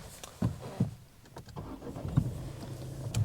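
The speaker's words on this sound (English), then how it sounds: "the examiner would be sitting next to me and would tell me or ask me to start my engine" Car engine starting during a driving test in Mill Hill: a few short clunks and mechanical knocks, then a faint crank and low engine murmur, fairly quiet and close inside the cabin.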